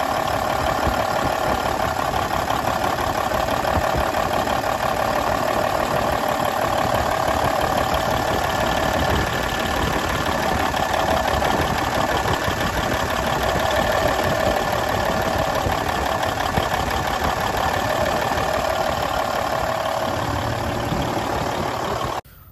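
Cummins N14 diesel engine idling with a misfire, a steady loud rumble with a faint uneven knock running unbroken for about twenty seconds with no talking.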